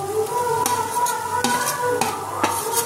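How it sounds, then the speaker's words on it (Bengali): Ground cumin, coriander, chilli, turmeric, garam masala and black pepper are sautéed and stirred in a pan for chicken lahori, a low sizzle punctuated by repeated sharp spatula scrapes at an uneven, steady pace. "এই মশলাটা আমি ভালো করে কষিয়ে নেব"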